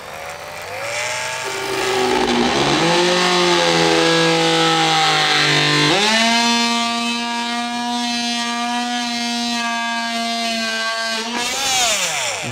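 A Dewalt XMS14MULTI oscillating multi-tool plunge cutting into material, a loud, steady, high buzzing whine that climbs in pitch as it spins up and shifts as the blade bites, running alone for about twelve seconds.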